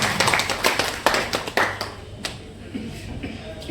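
An audience at an all-India mushaira claps for a poet, a fairly quiet patter of many hands that is dense at first and then thins out into scattered claps.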